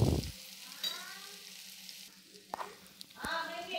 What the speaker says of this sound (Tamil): இந்த எண்ணெயிலேயே காய் வதக்கும்போது சாம்பார் நல்லா மணமாக இருக்கும்.